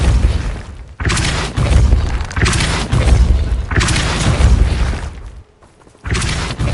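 Repulso spell blasts in the video game Hogwarts Legacy: a run of heavy booming thumps with whooshing, shattering edges, each burst lasting about a second, close and loud, with a brief near-silent gap toward the end before another blast.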